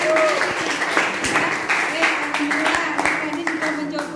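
Classroom audience applauding after a student presentation in an Islamic religious education class, steady dense clapping from many hands filling the whole stretch, loud and close.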